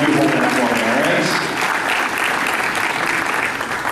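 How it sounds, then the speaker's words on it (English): Audience applause at a cosplay contest, a dense, steady wash of clapping from a sizable crowd that stays loud throughout, with a voice faintly mixed in. "ladies and gentlemen, give them a round of applause."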